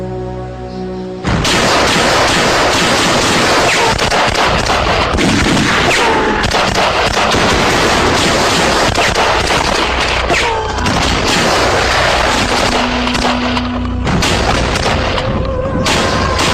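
Sustained heavy gunfire in a Pashto drama battle scene, with loud, dense volleys of shots and booms that run almost without pause after a short quiet opening.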